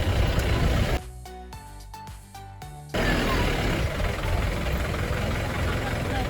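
A safari jeep heading to Dudhsagar waterfalls in Goa runs with a broad, rough engine rumble and wind noise. It drops away for about two seconds while someone speaks, then resumes loud and steady.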